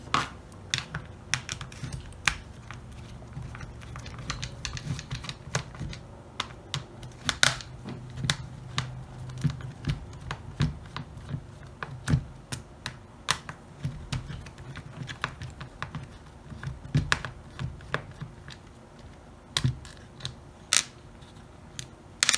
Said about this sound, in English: we also have to remove these 3 screws then.